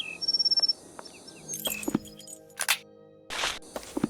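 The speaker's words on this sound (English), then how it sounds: "we are dealing with a bluebird of paradise, my dear Watson." A bluebird of paradise call in a video game: a rapid string of high bird chirps, then sparse tweets and scattered clicks, with brief noisy bursts against a quiet electronic background.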